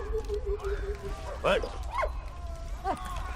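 A dog in the World War I video game Valiant Hearts gives a few short, whiny yips and barks at about three moments, moderately loud over a steady low game soundscape.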